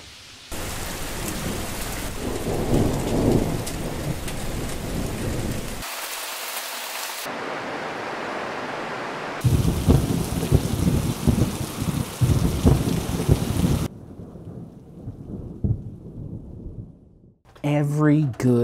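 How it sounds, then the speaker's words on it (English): A thunderstorm brings heavy rain and deep rolling thunder in loud, abruptly cut stretches, broken by a short silent gap and a quieter patch before the downpour returns. "it looks like the storms are coming in."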